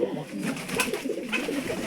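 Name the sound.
Giribaz pigeon cooing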